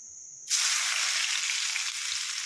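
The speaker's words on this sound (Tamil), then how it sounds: "இந்த நெல்லிக்காய் வந்து இந்த ஆயிலில் நல்லா வேகணும் நல்லா கிறிஸ்பியாக வர வரைக்கும்" Crushed amla (Indian gooseberry) drops into hot oil and bursts into a loud, bright sizzle that holds steady and close for the next two seconds, with no talk.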